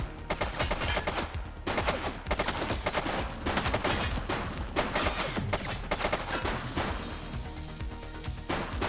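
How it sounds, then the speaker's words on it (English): Dense gunfire from The Precinct, a police game: rapid overlapping shots and bursts crackle nonstop, loud and close, with no pauses and no talk over them. "He's shooting!"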